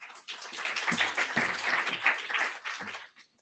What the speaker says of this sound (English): It's refreshing that people clap whenever you got code at the IETF.